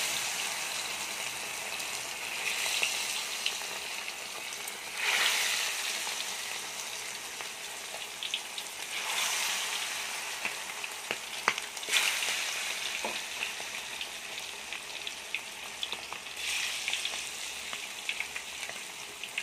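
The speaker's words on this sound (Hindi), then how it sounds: "ऑयल हमारा जो गर्म हो चुका है, अब इसके अंदर हम चिकन डालेंगे" Chicken pieces fry in hot oil with a steady, dense sizzle throughout, swelling into louder bursts of crackle every few seconds as the pieces settle or are moved.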